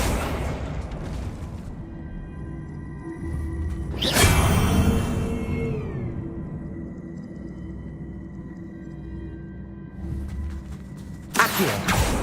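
Accio spell cast in Hogwarts Legacy, the video game: a sharp whooshing burst with a booming body and a falling, ringing magical tail, followed by a quieter stretch and another crisp burst near the end.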